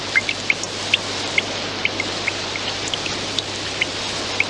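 Steady rain falls hard and close, a dense even hiss with scattered sharp drips and drops landing on a surface, no voices.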